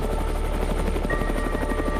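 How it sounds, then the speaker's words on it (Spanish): A Grupo Relámpagos rescue helicopter of the State of Mexico flies as an air ambulance carrying a patient, its steady rotor thump and turbine whine loud and continuous throughout, with no talk. "El helicóptero del Grupo Relámpagos del Estado de México traslada a un paciente intoxicado."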